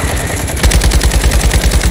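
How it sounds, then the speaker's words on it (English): Rapid automatic gunfire in the video game Modern Warfare 2, loud and close, with rhythmic bursts of shots. "someone's shooting. We need to hide."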